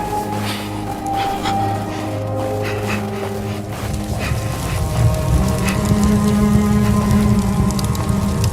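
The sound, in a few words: hail falling in video game The Fidelio Incident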